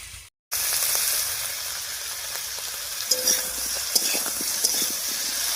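Cauliflower and potato fry over spiced tempering oil in a pan, a loud continuous sizzle that starts after a brief gap, with scraping stirs and clicks of a utensil against the pan.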